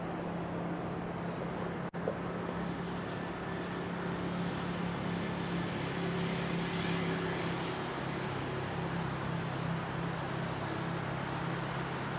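A British Airways Boeing 787-10 goes around in fog at Heathrow, a steady, broad jet engine roar held at a distance throughout, with a single brief click early on.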